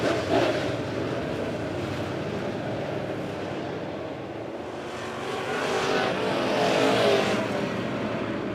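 Race cars roar around the track at Monett Motor Speedway in a feature race, a dense, continuous engine drone that swells as the pack sweeps closer, with no talk.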